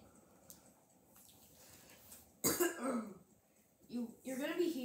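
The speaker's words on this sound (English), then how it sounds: "You're gonna be hearing me frequently cough during the video because I think I'm catching a cold" A person coughing and clearing their throat, suffering from an oncoming cold, with a sharp burst in the middle followed by a rougher throat-clearing sound, fairly close and alone over faint background noise.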